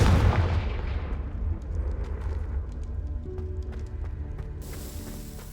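The Confringo fire spell is cast in Hogwarts Legacy, opening with a loud, heavy blast that fades into a crackling, rumbling tail with scattered small pops.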